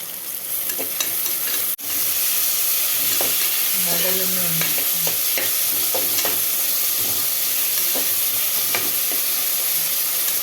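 Onions, green chillies and tomatoes sauté in a pan, giving a steady frying sizzle and hiss with repeated scraping stirs, close and continuous throughout.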